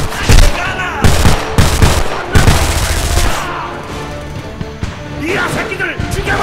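Gunfire in the Homefront video game: loud, repeated bursts of automatic fire and single shots in an irregular rhythm, close and dominant, with battle noise between bursts and someone talking over it.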